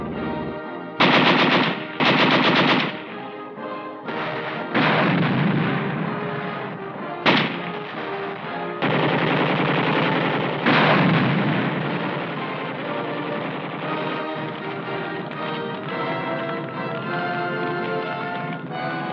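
Korean War combat footage from a 1952 US Army film, with heavy machine-gun and artillery fire in loud, sustained bursts broken by short pauses, dense and close, with no talking over it.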